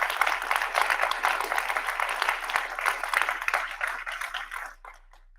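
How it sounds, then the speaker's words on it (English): A conference audience applauding, steady crowd clapping at moderate volume that fades out near the end, leaving a few scattered claps. "a round of applause"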